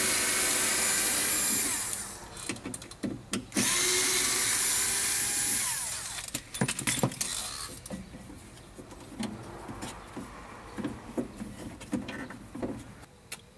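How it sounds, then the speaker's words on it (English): A power drill backs screws out of a Mini Cooper power window motor, giving two long, close, steady whirring runs separated by short pauses, followed by scattered clicks and handling clatter. No one speaks. "We'll pull the screws out of the power window motor."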